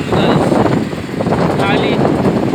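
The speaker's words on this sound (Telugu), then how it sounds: "ఫుల్ గాలి వస్తుంది గాయస్" Strong wind buffets the microphone while riding through traffic, a steady loud roar across the whole stretch with faint traffic noise underneath.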